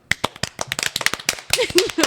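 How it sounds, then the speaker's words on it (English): A few sharp claps and taps for Greg on a comedy podcast, quick and close, mixed with laughter and voices talking over them. "A round of applause for Greg."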